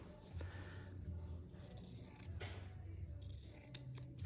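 Scissors snip steadily through paper, cutting words out for an art journal page; the close, crisp cuts come in short repeated bursts with no talking.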